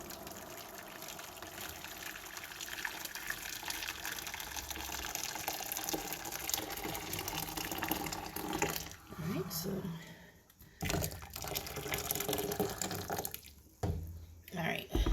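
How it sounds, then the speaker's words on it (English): Freshly boiled liquid poured from a pot over ham-curing ingredients in a kitchen, a steady splashing gush that stops and starts in the final seconds. "I'm going to pour it over this to melt all of this"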